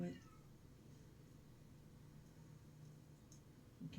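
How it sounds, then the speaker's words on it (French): Cats meowing indoors, a faint high cry at the start and another at the very end, with quiet background hiss between and no other sound. "C'est les chats que vous entendez."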